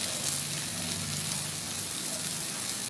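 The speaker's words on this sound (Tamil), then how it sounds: "இது எல்லாமே அப்படியே நம்ம வெங்காயத்தோடு சேர்த்து வதக்கிக்கிறோம்" Onions and store-bought masala sautéing in a pan for chana masala, a steady close sizzle with no speech.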